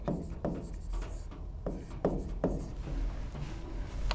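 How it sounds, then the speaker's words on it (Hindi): A sentence is written by hand, with close, quiet scratchy pen-on-paper strokes coming in short irregular bursts separated by brief pauses. "जैसे अगर मैं सेंटेंस लिख रहा हूँ"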